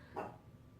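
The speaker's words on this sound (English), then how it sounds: "my dog is acting up when I'm filming" A dog gives a single short bark, faint and slightly distant, over a quiet room with no talking.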